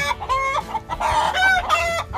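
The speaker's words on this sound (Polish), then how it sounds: "w naszym kurniku dzisiaj cyrk i hałas" Several hens cluck and squawk loudly and close by in a henhouse with a rooster, overlapping calls in an agitated, continuous chorus.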